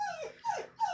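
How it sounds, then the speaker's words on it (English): A dog whimpers and whines in three short rising-falling cries, fairly close and clear, with brief quiet gaps between them and no talking. "Your dog's crying, Emmett."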